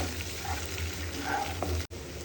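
Garlic paste frying in a pan for Bengali mutton kosha gives a close, continuous hissing sizzle that cuts off briefly near the end, with no voices.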